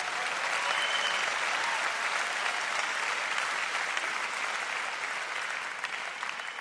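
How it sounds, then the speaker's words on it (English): A worship concert crowd claps in sustained, even applause, a thick wash of many hands at moderate volume that fades slightly toward the end. "Yeah, sure, applaud."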